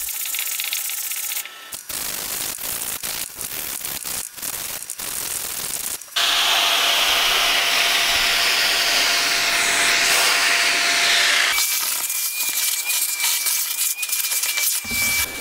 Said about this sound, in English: So with that small scratch sanded down, let's move to the main part of the damage on the back of the bumper.